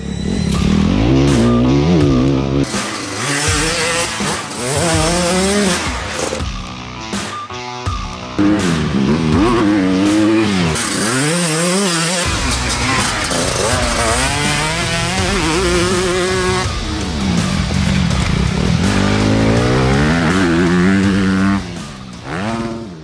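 Honda 125 CR two-stroke and 250 CRF four-stroke motocross bikes ride a small track, engines revving loudly and continuously with repeated rising and falling throttle sweeps, close and dominant throughout.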